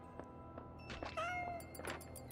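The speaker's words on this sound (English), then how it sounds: "that's the second time I heard a kitty" In the video game Scanner Sombre, a cat gives a short, clear meow with a rising, then falling whine, set among soft thuds and faint clatter in a quiet cave ambience.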